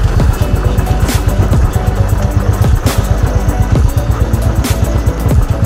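A motorcycle rides along an empty road in Waling, Syangja during lockdown, its engine putting out a steady, close, continuous drone with a rhythmic low-end pulse and no talking.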